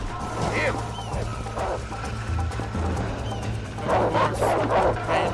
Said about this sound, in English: bunch of coyotes just decide to heckle me.